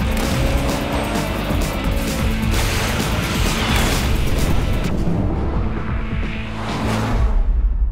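Karts drift through a race in the video game KartRider Drift, with a loud, dense roar of engines and tire slides, whooshes and crash-like hits that barely let up.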